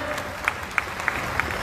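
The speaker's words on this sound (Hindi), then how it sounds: "हम उनका जोरदार तालियों से स्वागत करेंगे।" Loud, dense applause fills a hall at a BJP membership ceremony in Gwalior as Narendra Singh Tomar is welcomed, with a steady clapping roar and a few sharper claps standing out, under a murmuring crowd.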